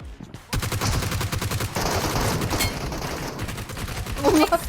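Rapid automatic gunfire bursts from the mobile shooter game PUBG Mobile, loud and sustained across most of the stretch with dense overlapping shots and a brief voice near the end.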